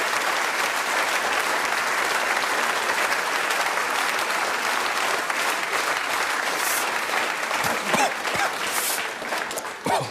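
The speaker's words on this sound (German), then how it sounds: "Kleiner Applaus" Sustained audience applause fills a Swiss rural cooking-show finale hall, a dense steady clatter of many hands for about ten seconds, loud and close, tapering slightly near the end.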